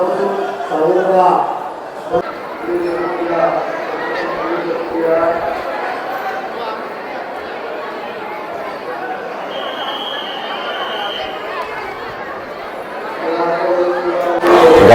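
A packed crowd chatters inside the Swami Samarth temple at Akkalkot after Guru Purnima, a continuous overlapping babble of many voices with louder nearby talk rising over it at the start and end.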